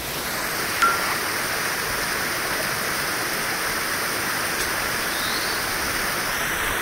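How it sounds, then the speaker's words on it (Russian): Continuous rushing water from the Milky Waterfall in Abkhazia, a steady broadband roar, even in level throughout with no talking. "Вы знаете вообще, что это Молочный водопад?"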